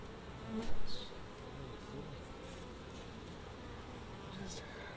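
Honeybees buzzing at an opened beehive, a dense, continuous hum with single bees droning briefly louder as they pass close by.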